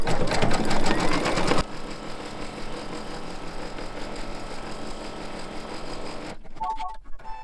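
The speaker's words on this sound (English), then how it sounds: "now it will stitch a double running stitch to tack this down." An embroidery machine stitches a double running stitch to tack down fabric on an in-the-hoop mug rug. Its rapid mechanical needle chatter runs steadily and close for several seconds, louder at first, then stops near the end.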